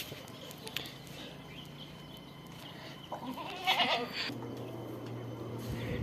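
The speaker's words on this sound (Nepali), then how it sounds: "के अरे बाख्राहरू।" Goats bleating in a village, a few quavering calls rising around the middle and end over quiet outdoor ambience, moderately near.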